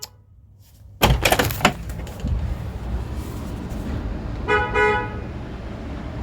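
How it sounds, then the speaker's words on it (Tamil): A car horn gives one short honk partway through, loud and near, over ongoing traffic rumble that begins with a sudden thump. "எவன்டா அது ஹார்ன் அடிக்கிறது?"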